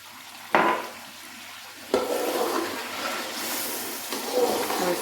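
A spoon works through a pot of chicken and potato korma thinned with half a cup of water, giving wet scraping and gentle sloshing in a few uneven strokes, close and steady with no talking.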